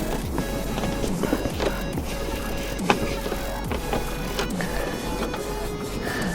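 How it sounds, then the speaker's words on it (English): Self-tapping screws driven slowly into the plastic clip of a RallyArmor mud flap on a 2002–2007 Subaru WRX/STI, a steady mechanical whir with scattered clicks and knocks, close and fairly even throughout. "since these screws are self-tapping, it's best just to start them nice and slow until they get to bite into the back end of that clip"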